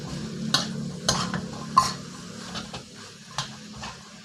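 Rice noodles stir-fried with soy sauce and blanched greens in a hot pan, a quiet background sizzle punctuated by several spaced spatula scrapes and knocks, close by with no talking.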